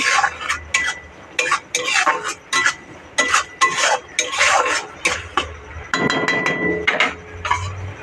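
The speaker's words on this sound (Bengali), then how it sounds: "শুকনো লঙ্কা গুঁড়ো খুব ভালোভাবে এবার মশলাটাকে কষিয়ে নেব" Spice masala with dry chilli powder and black pepper being fried and stirred in a pan, heard as a repeated series of sharp metallic scrapes and clanks from a spoon against the pan, steady and close, with no voices.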